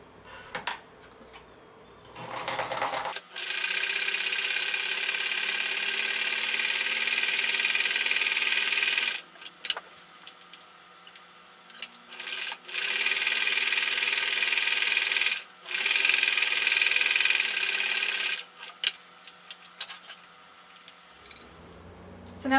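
A sewing machine top stitches a fabric face mask pocket in several bursts of rapid, buzzing stitching, close and moderately loud, separated by short pauses with small clicks and handling noises.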